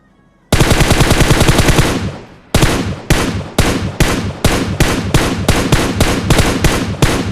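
M4 rifle fire in the mobile shooter BGMI, loud and close: a sustained automatic burst of about a second and a half, then a fast run of evenly spaced single tapped shots.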